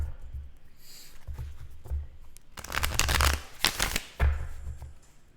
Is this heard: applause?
no